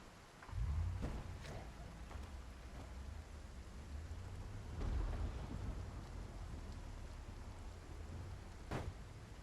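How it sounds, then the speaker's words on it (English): A heavy thunderstorm with rain in the survival game Project Zomboid: a steady wash of rainfall with low thunder rumbles rolling in near the start and again midway, plus sharp crackles and drops, with no voices. "I encountered the worst thunderstorm I have ever seen in PZ"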